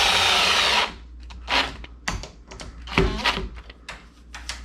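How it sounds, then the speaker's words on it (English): A power drill drives screws into a Kwikset SmartKey deadbolt being installed in a newly bored door hole: one long whirring run, then several short, close bursts with brief pauses between them. "Now I'm putting the screws in."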